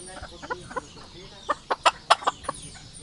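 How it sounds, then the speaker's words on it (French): Tiny bantam-sized hens cluck in short, high bursts, a handful of quick calls clustered together, fairly close and moderately loud over a quiet background. "ça, c'est les plus petites poules du monde"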